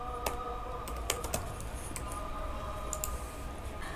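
Rapid keystrokes on a computer keyboard while a PHP voting system page title is typed, with irregular clicks and short bursts over a faint steady hum, close and moderately quiet.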